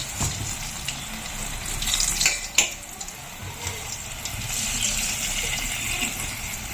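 Sukhiyan, Kerala sweet fritters, frying in hot oil: a steady close sizzle and bubbling with a few scrapes and clinks of a spoon in the pan, no talk.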